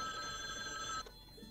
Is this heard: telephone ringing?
yes